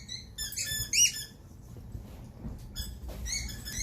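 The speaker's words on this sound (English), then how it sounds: "She's finding squeaky toys as we speak." A dog walking on a leash outdoors squeaks a squeaky toy in a few short high bursts, close, with steady street background noise.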